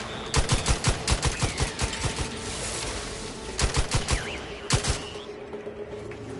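Sharp bursts of gunfire crack in The Outer Worlds 2, loud clustered volleys of rapid shots with short gaps between groups, over a steady mechanical background hum.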